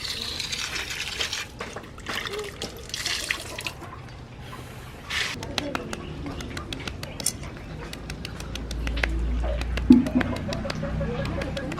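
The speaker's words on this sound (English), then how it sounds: "I'm going to wash it." Fruit being washed in water, with splashing, dripping and running-water sounds close by, intermittent and moderately loud, plus a few clunks near the end.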